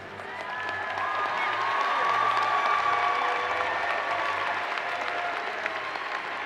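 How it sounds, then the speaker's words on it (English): Sustained applause from a large audience at a college of liberal arts commencement ceremony, steady and loud throughout with some cheering mixed in, honoring a group of graduates. "let's have one round of applause for that group of graduates"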